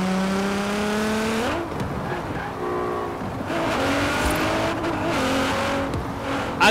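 A 1,000 hp Nissan R35 GT-R driven in Forza Horizon 4 revs loudly and steadily, its engine pitch rising and falling through several gear changes while the tires squeal in long skids during donuts.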